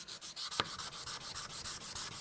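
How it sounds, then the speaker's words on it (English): Hand sanding the bolster of a Damascus steel chef's knife: close, steady rhythmic rasping strokes, about six per second, alone and evenly paced, with one brief sharper scrape early on. "I have to get right up into this corner and press and sand the front part of that bolster"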